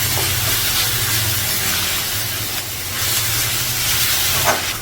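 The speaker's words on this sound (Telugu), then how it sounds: "అల్లం వెల్లుల్లి పేస్ట్ వేసి బాగా వేగాలి." Ginger garlic paste frying hard in a pan for a chicken curry, giving a loud, steady steamy hiss and spatter that runs without a break, close up, with a low hum underneath and no talking.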